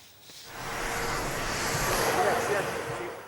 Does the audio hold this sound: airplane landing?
yes